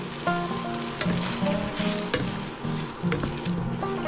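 Chunks of salted tomato fry in a pan for tomato scrambled eggs, giving a soft sizzle broken by the clatter and scrape of stirring, close and moderately quiet, with no talk.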